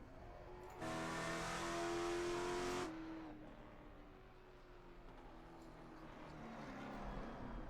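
Late model race car on a qualifying lap at North Wilkesboro in a racing video game, the engine swelling into a loud, close roar for about two seconds, then dropping to a fainter, steady drone as it moves away.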